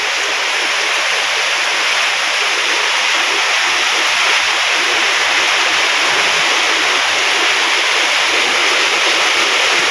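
Strong wind and rain pour down over rural farmland in a dense, constant rushing hiss that stays loud and even throughout, with no one speaking.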